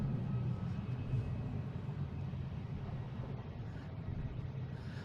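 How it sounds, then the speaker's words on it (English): A JetBlue airliner takes off at Boston Logan, its steady low jet rumble heard from a distance, fairly faint and continuous, with no talk over it. "we have this JetBlue taking off to Richmond"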